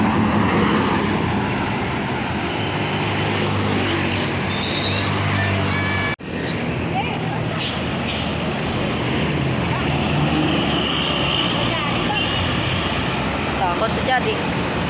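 JK Holiday tour bus rolling past on a road in southern Ciamis, a sustained loud engine and road rumble with a sharp cut midway and traffic noise continuing, a voice talking over it.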